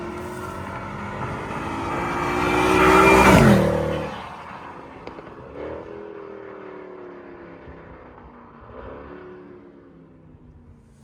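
A Mercedes C63 AMG W204 with its V8 swells loudly as it passes close, peaking then fading away, followed by quieter distant engine rumble and a brief rev.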